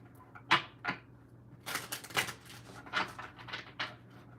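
Several quick papery riffles and soft slaps of cards being shuffled, in short irregular bursts, close by and fairly quiet, with no talking.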